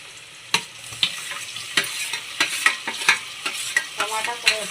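Tomato stirred into fried onions in a pan for chicken biryani, a soft sizzle punctuated by regular scraping spatula strokes roughly every half second.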